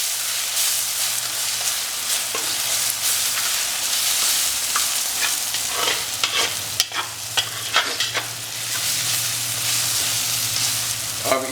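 Chicken and garlic-ginger paste being stirred in a hot frying pan for a tomato chicken curry, with a steady close sizzle broken by repeated scraping strokes of the spoon, and no one talking.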